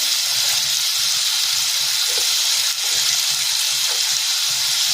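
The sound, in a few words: potato slices frying in oil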